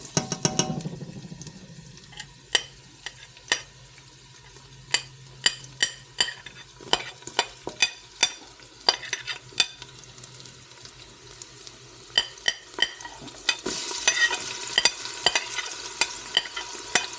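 Oil crackles and pops in a hot pan, with a steady stream of sharp spits over a faint hiss that grows brighter toward the end.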